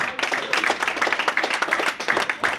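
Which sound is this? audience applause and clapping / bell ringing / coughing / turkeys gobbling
audience applause and clapping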